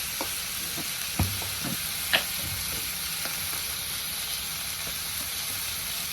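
Spiced tomato masala stirred in a pan, a steady sizzling hiss with a couple of distinct scrapes and knocks of the spoon early on, close and with no talking.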